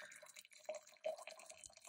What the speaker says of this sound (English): all I'm going to do is I'm going to pour the water